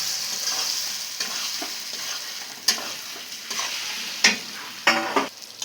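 Eggs and potatoes stir-frying in hot spiced oil, a steady sizzle broken by sharp scrapes and knocks of a spatula against the pan, close and unaccompanied by speech.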